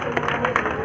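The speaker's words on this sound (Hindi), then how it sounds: "जोरदार तालियां हो जाए" An audience at an outdoor bodybuilding tournament claps and cheers in a brief burst of mixed applause, crowd chatter blending through it at close range.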